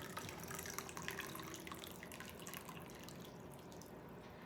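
Hot water from an electric kettle pours into a cup in a faint, continuous trickling splash lasting several seconds, heard quietly in a home kitchen while tortillas are being made.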